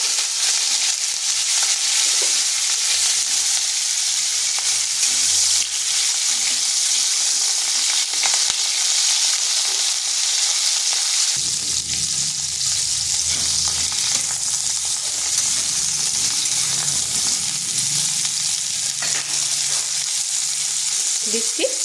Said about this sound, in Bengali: তেলটা ভালোভাবে গরম হয়ে গেছে, দিয়ে দিচ্ছি ফুলকপিগুলো